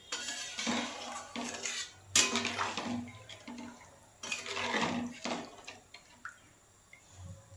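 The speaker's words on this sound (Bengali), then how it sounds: "এখানে আমি আরেকটু জল দেব।" Water poured into a cooking pot of simmering fish jhal, a brief splash and trickle among clinks of a spoon and pot, close and fairly quiet.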